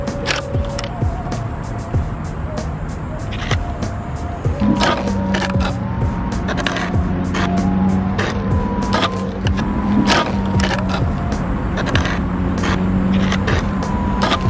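Veteran Sherman electric unicycle (electric wheel) spinning in tight circles, its motor whine rising and holding steady beneath repeated sharp scraping and clicking bursts, loud and close throughout.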